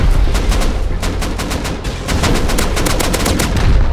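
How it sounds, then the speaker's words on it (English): Rapid bursts of gunfire in Rust as players shoot out a turret, a dense string of sharp close shots in quick rhythm with a brief lull midway, loud and without talk. "They're shooting out turret."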